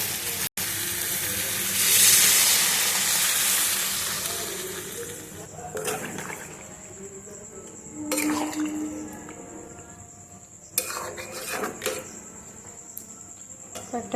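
Water is poured into a pan of simmering soybean curry, starting with a loud, bright sizzling hiss that settles into faint bubbling, with occasional clinks and stirring.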